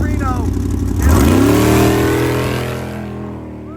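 An off-road race truck blasts off the start line toward Reno, engine note rising sharply in a loud, close roar as it accelerates, then gradually fading as it pulls away, with an announcer speaking over the start.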